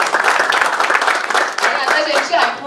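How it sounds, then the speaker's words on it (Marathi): Loud, dense applause from an audience honouring the writer at a gathering, continuous clapping filling the whole stretch with a few brief swells. "जोरदार टाळ्या सरांसाठी झालं पाहिजे."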